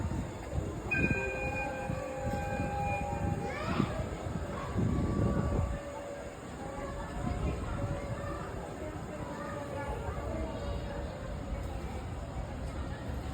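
A small train in Japan rumbles steadily along the track with rattling wheels and a brief high horn-like tone, voices faintly audible in the background.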